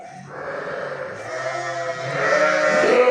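Sheep bleating in a pen at lambing time, one drawn-out, wavering bleat close by that rises and grows louder over a few seconds, with quieter bleats and a low background.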